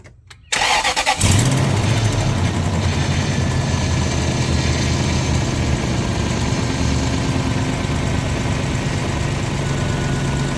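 A 2000 Toyota Tundra 4.7 V8 engine, with a newly replaced power steering pump, cranks and catches, then settles into a loud, steady idle with a low rumble that continues to the end.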